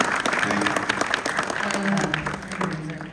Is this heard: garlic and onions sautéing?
no